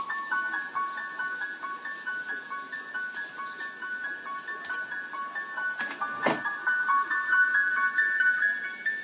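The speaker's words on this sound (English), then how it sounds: "You can kind of hear it phasing in and out." A high, chiming melodic loop in FL Studio swells and thins as a phasing effect sweeps in and out, with a brief sharp accent near the end.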